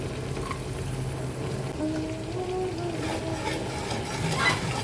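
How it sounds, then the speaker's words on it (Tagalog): Garlic frying in oil in a pan, a steady soft sizzle and bubbling with occasional faint stirring clinks, continuous and fairly quiet with no talking. "Prituhin hanggang mag-light golden brown."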